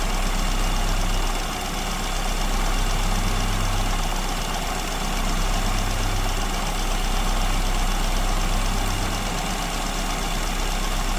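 A car engine fitted with an SU carburetor idles steadily near 1,000 RPM while its mixture is adjusted, a constant low rumble with a slight rhythmic rise and fall and no voices.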